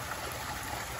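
Water trickles and splashes from a waterfall into a koi fish pond, a steady close wash of flowing water for about a second.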